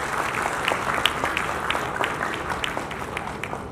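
Hall audience at a textile industry event applauds to welcome guests, a steady crowd patter with a few sharper individual claps standing out, and faint talk underneath.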